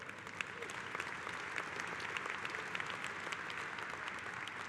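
Sustained applause from a large convention audience at a union gathering, steady and dense throughout, with no voices standing out.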